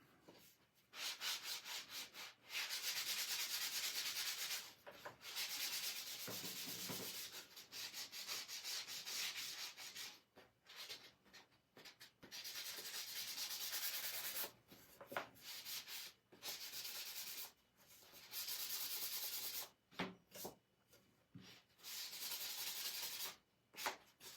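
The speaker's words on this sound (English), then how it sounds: "Now I'm going to sand it." Sandpaper rubbing a painted cutout, a close, steady rasping scrub in long strokes with brief pauses between passes, with no talking.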